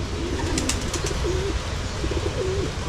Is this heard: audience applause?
no